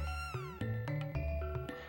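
A cat in the Chrono Trigger video game meows in short, bright chiptune-style cries, several quick meows in a row set against steady game music, loud and clear with no voices.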